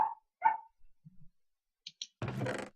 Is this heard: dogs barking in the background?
yes